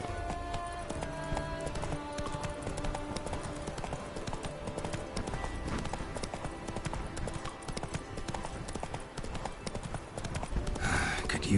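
Horse hooves gallop at a steady, rapid clip-clop across a long stretch in The Witcher 3: Wild Hunt, with dense overlapping game ambience and no one speaking.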